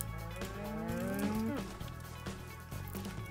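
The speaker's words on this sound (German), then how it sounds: "Hier sind gar nicht mehr so viele erwachsene Kühe." Cattle lowing in Minecraft, a few drawn-out moos rising and falling over a steady game background hum, close and clear with no talking.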